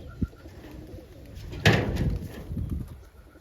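Inside a pigeon loft, a single pigeon coo rises clearly after a brief knock, with faint rustling and low cooing continuing close by.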